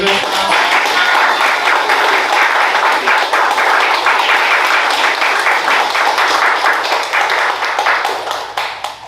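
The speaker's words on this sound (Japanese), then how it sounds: "すみません、わざわざ拍手でくださって。" Applause from a seated audience at a corporate lecture for young employees, a dense steady wash of many hands clapping that stays loud throughout and thins slightly near the end.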